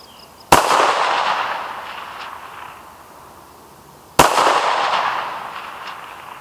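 Two sharp, loud rifle shots from a 5.56 carbine at an outdoor shooting range, spaced about three and a half seconds apart, each followed by a long echo rolling off the range.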